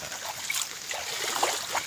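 Water flows and trickles softly at a mountain water tank, a faint, uneven gurgling stream with small splashes.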